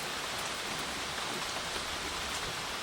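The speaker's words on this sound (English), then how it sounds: "Here comes the rain." Steady, loud rain hissing continuously, a dense wash of drops with no voices or breaks.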